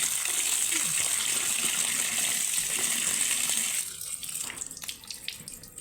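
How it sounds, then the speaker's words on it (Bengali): Running tap water splashes over an ash gourd as it is rinsed at a kitchen sink, a steady broadband gush for about four seconds that then thins into sparse drips and light handling sounds. "এই ভালো করে আমি জলে ধুয়ে নিলাম"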